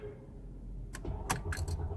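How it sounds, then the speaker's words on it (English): A car key jingles on its ring and clicks as it slides into the ignition, a few short metallic rattles in a quiet interior. "Put the key in."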